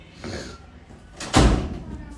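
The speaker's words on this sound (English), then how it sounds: "Close the door." A door shuts with a single solid thud in a house, preceded by faint rustling and movement, with a voice nearby.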